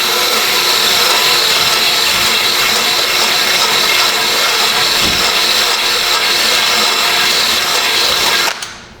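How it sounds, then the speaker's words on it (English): A drill with a carbide burr grinds rust off metal at a Nissan Frontier ball joint seat, a loud, continuous high-pitched whir for several seconds, then winds down abruptly. "You still got your drill out. And put a carbide burr in there."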